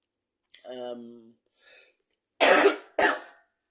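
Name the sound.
coughing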